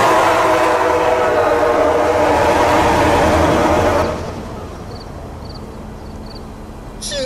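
A loud rumbling train passes in the Roblox Metra train sim game, its engine noise and wheel drone fading after a few seconds to a quieter background with faint chimes.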